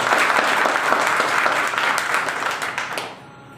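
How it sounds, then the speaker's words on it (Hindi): An audience at a business presentation gives loud, sustained applause, a full wash of clapping that holds steady before tapering off and stopping near the end. "एक जोरदार तालियां"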